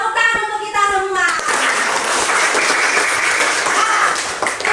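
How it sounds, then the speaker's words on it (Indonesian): Primary school class clapping hands in a classroom: a voice speaks at the start, then children break into lively, dense applause that carries on steadily to the end. "Tepuk tangan untuk kita semua."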